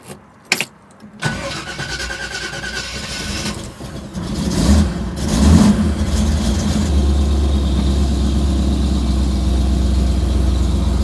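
A 1967 Chevrolet Camaro restomod with a 4L60E automatic transmission fires up close by after a couple of sharp clunks, revs briefly, then settles into a loud, steady engine drone as it pulls away and drives on.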